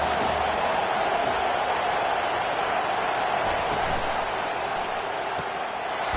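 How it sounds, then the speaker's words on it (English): Football stadium crowd in a video game roaring steadily as the defense lines up on third down, a dense, loud wash of noise that holds without a break throughout. "Decibels rising as the crowd gets behind this defense on third down"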